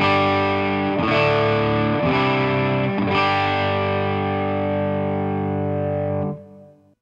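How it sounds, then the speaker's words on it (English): Les Paul electric guitar played through a Blackface-style amp simulator with a Tube Screamer overdrive engaged, three distorted chords struck about a second apart, the last ringing out for several seconds before stopping. "Now if I turn the Tube Screamer on, let's see what happens."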